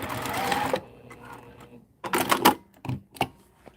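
Sewing machine stitching a top zipper into a fabric project, with a steady run of stitching at first, then several short, quick bursts of close stitching separated by pauses.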